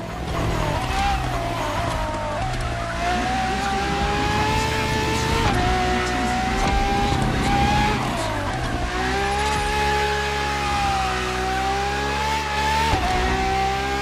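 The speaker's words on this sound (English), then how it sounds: "for this second lap, you'll be driving the FXXK" A Ferrari FXXK supercar in the racing game The Crew Motorfest revs hard and continuously, its engine note rising and falling through gear changes, loud and close throughout with tire noise mixed in.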